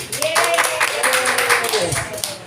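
An audience claps briefly and unevenly at a Filipino church gathering, scattered hand claps under a speaking voice over a microphone.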